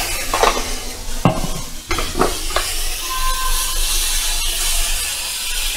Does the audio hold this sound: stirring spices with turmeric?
yes